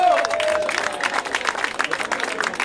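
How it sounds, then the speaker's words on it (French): Applause from a crowd, dense and continuous, with a voice speaking over it at the start. "On applaudit Alexia, s'il vous plaît."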